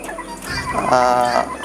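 Fancy backyard country chickens cluck and call in a short burst close by, with a nasal, warbling tone and little else around them.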